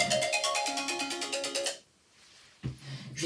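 A mobile phone ringtone plays loud and close as a rapid repeating melodic pattern, breaks off into near silence, then starts again briefly at the end.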